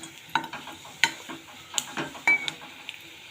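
Potato pitha frying in a pan of oil, stirred with a utensil: a low sizzle runs throughout, broken by several sharp scraping clinks of the spoon against the pan. Close and fairly quiet, with no talking.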